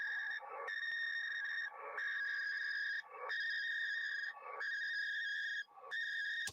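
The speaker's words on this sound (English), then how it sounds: "If you have a washing machine that sounds like this on 40 meters" A washing machine's interference rides the 40 meter amateur radio band as a loud, steady whistling buzz of tones, broken by regular short gaps about every second and a half, with no voice.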